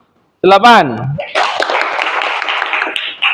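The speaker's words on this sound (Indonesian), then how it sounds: "Tepuk tangan." Classroom applause for a student group after its score is read out: a brief voice, then a steady burst of many hands clapping together that carries on to the end.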